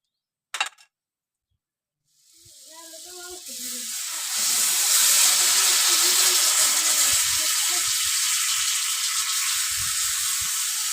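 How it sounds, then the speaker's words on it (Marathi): Pav bread toasting in a pan over a wood-fired chulha: a brief clatter, then a steady, loud hiss and sizzle that swells after a couple of seconds and holds, with faint scraping underneath. "आता ह्याच्यात पाव भाजून"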